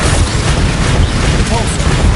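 A Bombarda explosion spell cast in the Hogwarts video game, a dense, continuous booming blast that fills the whole stretch at high level, with a voice mixed in.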